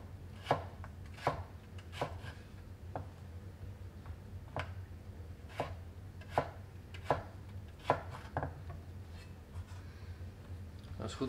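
A knife on a cutting board slices a potato into strips, about a dozen crisp, fairly close thuds at an irregular but steady working pace over low background noise.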